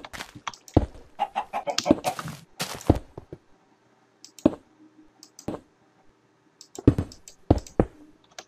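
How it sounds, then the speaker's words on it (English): Chicken clucks in the video game Minerraria, short scattered bursts interleaved with sharp clicks, moderately close and alone without speech. "I heard a chicken a minute ago"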